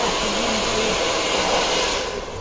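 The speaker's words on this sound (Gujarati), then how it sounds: "એને પણ આપણે 3 સેક્શનમાં જ બ્લો ડ્રાયર કરીશું." Blow dryer drying the front section of freshly coloured hair in a beauty salon, a loud, steady, close airflow roar throughout that dips slightly at the end.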